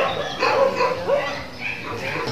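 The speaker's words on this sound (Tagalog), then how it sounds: "So yun po yung mga aso sa loob." Several rescued dogs barking and yipping inside an animal rescue and rehabilitation shelter, a cluster of close, overlapping barks and whimpers with a person talking alongside.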